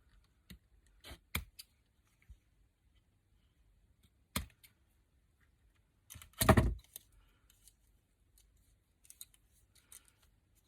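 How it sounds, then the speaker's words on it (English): Scissors snip off thread ends in a beadcraft project, a few sharp isolated clicks and one longer close cut amid quiet handling noises. "cut your ends off"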